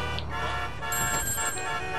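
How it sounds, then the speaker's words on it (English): Phone ringing in the video game GTA V, a steady electronic ringtone playing over game background sound, close and continuous, with no talk. "Looks like we just gotta answer the phone."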